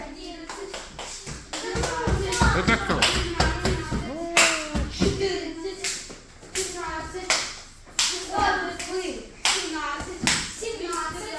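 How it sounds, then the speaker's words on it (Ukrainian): An audience applauds to cheer on participants at a competition event, with bursts of clapping and taps running alongside children and adults talking throughout, the claps loud and close. "Підтримали учасників. Оплесками."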